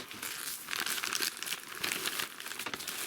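Plastic wrapping pulled from the packaging of a motorcycle rear hugger for a 2019 Kawasaki Z900RS, crinkling and rustling loudly and continuously up close, with no speech.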